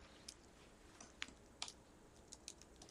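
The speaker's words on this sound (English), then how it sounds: "I got a broken keyboard, so I'm having trouble a little bit here." Faint, sparse clicks of keys being pressed on a broken computer keyboard, a few isolated taps spaced unevenly apart against a quiet background, with no talking.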